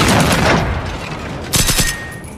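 Enemy gunfire rings out in the shooter game Generation Zero, a loud burst of rapid shots at the start followed by a second sharp volley midway, close and harsh.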